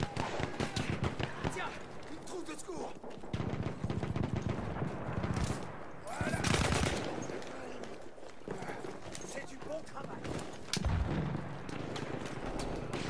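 Rapid gunfire bursts and shots in Battlefield 1 multiplayer, dense and continuous under battle noise and galloping horse hooves, with someone talking over the action.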